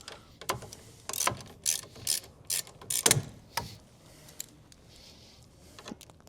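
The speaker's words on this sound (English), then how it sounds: "we can tighten them back up utilizing a 10mm wrench" A ratchet wrench fitted with a 10mm socket tightens bolts on a Honda Pioneer turn signal install, giving several sharp, separate clicks and ratcheting bursts at close range before trailing off into quieter fiddling.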